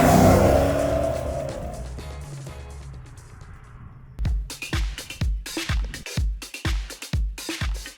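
A Lexus IS F with its 400-plus-horsepower V8 is driven on the road, a steady engine drone at first, then a run of loud, sharp bursts of engine and road noise from about four seconds on.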